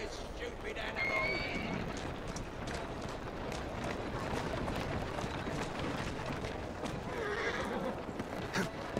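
In the video game Assassin's Creed Syndicate, a horse whinnies loudly twice while hooves pound in a fast gallop underneath, with a voice speaking faintly over the rumble.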